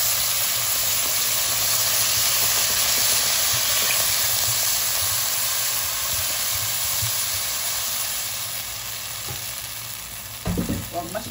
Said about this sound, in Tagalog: Lagyan na natin ang sabaw.